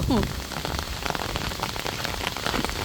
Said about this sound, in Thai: ว้าวฝนตกแล้วดีใจมากเลย